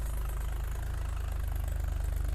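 A Massey tractor engine runs on a badly broken-up road where tractors keep getting stuck, giving a close, steady, deep rumble with a fast pulsing throb and no voices.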